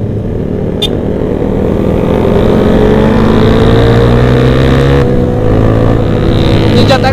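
Loud motorcycle exhaust roars steadily during a night ride through the city of Banda Aceh, with sports bikes such as a Yamaha R6, Kawasaki Z800 and ZX-25R. The engine drones close and continuously, rising slightly in pitch.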